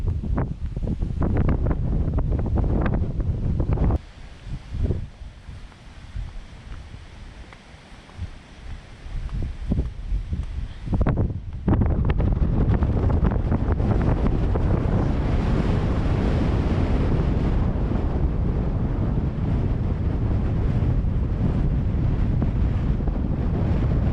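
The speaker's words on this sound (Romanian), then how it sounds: "Suflă vântul foarte tare" Strong wind gusts buffet a microphone outdoors on a hillside overlook around Bajawa, a loud, continuous roar that dips briefly and then surges back harder and steadier.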